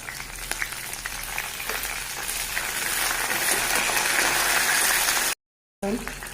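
Hibiscus flowers and leaves dropped into hot oil in a home kitchen, giving a steady, bright sizzle and crackle that swells and holds, with a brief silent gap near the end.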